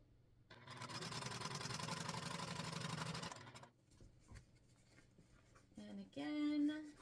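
A sewing machine runs in a steady, whirring burst for about three seconds while stitching a fabric scrunchie tube, then stops, followed by quiet handling noises and a brief higher whine.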